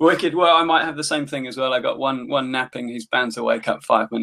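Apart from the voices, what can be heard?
No everyday noise stands out behind the speech.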